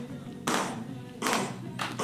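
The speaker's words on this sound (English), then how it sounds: "but add some hand claps" Hand claps layered into a song mix, three broad noisy bursts spaced roughly three quarters of a second apart over a low musical bed, loud and close.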